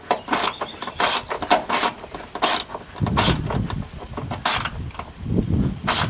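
An Allen wrench tightens a bolt on a Rock Hard 4X4 boat side slider, giving a run of repeated sharp ratcheting clicks in quick bursts, close and fairly loud, with no talking.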